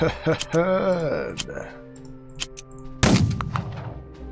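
Air-attack gunfire in the strategy game Unity of Command II: a loud burst of crackling shots opens about three seconds in, then decays, after an earlier stretch of game tones and a voice.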